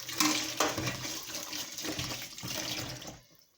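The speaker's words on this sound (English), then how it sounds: "Just give my strainer a good rinse." A kitchen strainer is rinsed under a running tap, with a steady, close splashing stream of water lasting a few seconds before it cuts off into quiet.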